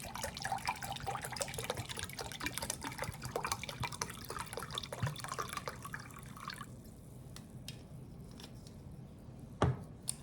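Apple cider vinegar pours in a steady, faint liquid trickle for several seconds, then thins into scattered drips and small clinks.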